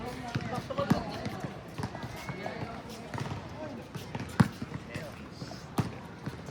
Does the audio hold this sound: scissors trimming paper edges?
no